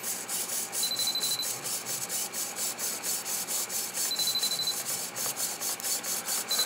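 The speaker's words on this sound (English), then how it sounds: "the alarm is going and the vibration feature is working as well" High-pitched electronic beeps from a Futaba 10J RC receiver's low-voltage alarm sound at intervals, each about half a second long, over a steady, rhythmic mechanical whirring.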